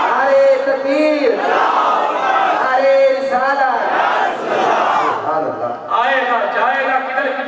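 A crowd at a religious gathering chants the takbir in loud, rhythmic unison, the voices rising and falling in repeated waves of the response.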